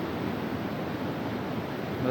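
Steady, broadband rush of a river flowing below a cliff at Wawa Dam, heard from a height as a continuous even roar with no breaks.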